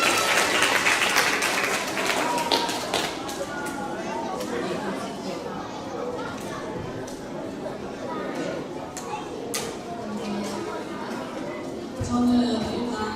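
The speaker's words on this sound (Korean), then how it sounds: "박수." Applause from a crowd at a children's church camp revival service in a large room, steady clapping with chatter and voices mixed in throughout.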